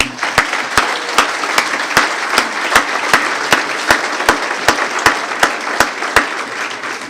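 Audience applause at a city's State of the City address in Torrance, given for Toyota. Many hands clap in a steady crowd texture, and a sharp, regular clap or tap sounds about every third of a second across seven seconds.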